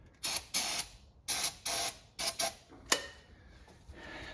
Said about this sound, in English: I'll spray a little starting fluid in here so don't have to crank forever